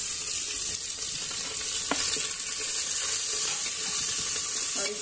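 Stuffed eggplants sizzle and fry steadily in a hot pan with coriander, a continuous close crackle with light stirring and no talk.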